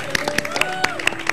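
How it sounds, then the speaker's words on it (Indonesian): A studio audience on an Indonesian TV show clapping in a short burst of distinct hand claps, with a sustained tone running underneath. "Boleh kita kasih tepuk tangan dong?"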